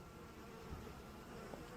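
Weakened honeybee colonies buzz steadily in October before winter, a dense, continuous drone, close and fairly loud, with no voices.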